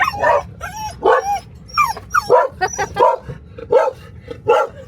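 Dogs bark and yip repeatedly in short excited bursts, mixed with high whimpers, close by and loud, with a steady low hum underneath.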